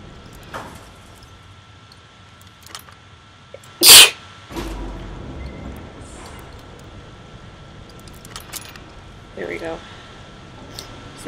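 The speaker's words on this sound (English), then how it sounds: "No, I have to sneeze again." A single sharp sneeze bursts out near the mic over a quiet room with faint background noise and a few soft shuffles.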